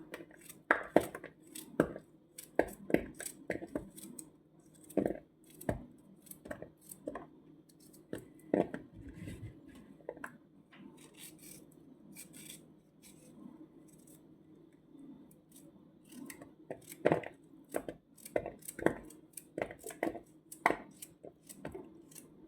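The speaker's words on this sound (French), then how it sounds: "Voilà les courgettes, on va les couper comme ça." A knife cuts courgettes for a Kabyle Algerian dish, giving an irregular run of crisp, close chopping taps spread across the whole stretch.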